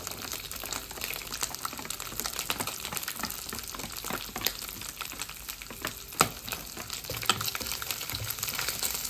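Sausages, green onions and pepper fry in a pan with a steady, close sizzle, dotted with scraping and stirring clicks from a utensil throughout.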